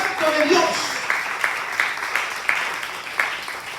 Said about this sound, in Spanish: Alguien le da un aplauso al Espíritu Santo de Dios.